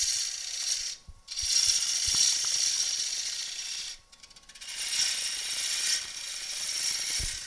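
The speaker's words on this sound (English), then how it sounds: "So I've got the lathe spinning, tool rest is in the right place, everything's locked down again, and I'm going to start by taking away this corner." A wood lathe spins with a steady mechanical whir while a gouge cuts away a corner of a flaky piece of wood, the cut breaking off briefly twice and then resuming, with no speech.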